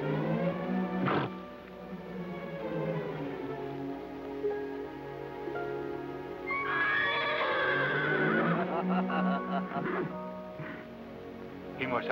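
A horse whinnies loudly near the start, followed by more neighs and intermittent hoof clip-clops, with dialogue from a western film heard between them.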